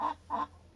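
Brazilian and local breed chickens call out with two short, close, nasal squawks a moment apart, then quiet, with no talking.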